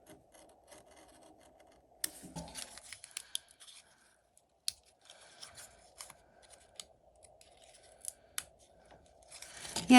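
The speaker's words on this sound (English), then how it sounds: "this X-Acto blade is working much better than I believe a pair of scissors would for this" A sharp X-Acto craft blade cutting material for a miniature flower house kit, giving a series of soft scraping, rasping strokes and small clicks, close and quiet, with no talk.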